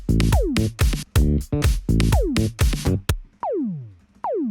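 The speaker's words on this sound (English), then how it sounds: "I'll call it a sci-fi gun" Sci-fi laser-gun synth sound from a song: rhythmic punchy stabs, each ending in a downward pitch sweep, then two isolated descending zaps that ring out. It is loud and close, with no voices.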